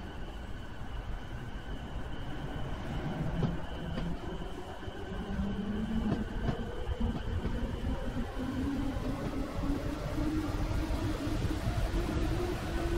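Simulated passenger train in the game Transport Fever 2, a steady low rumble and hum of wheels and motor rolling on without a break, with a faint rising tone near the end.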